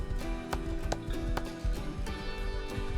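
Rapid clip-clopping hooves of a galloping horse in the survival video game Rust, a steady pounding gallop with a low rumble heard close and loud throughout.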